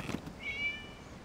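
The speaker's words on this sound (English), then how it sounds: "It was just a cat." A cat meows once in a video game, a short faint mew that rises and holds briefly over a soft background hum, with no talking.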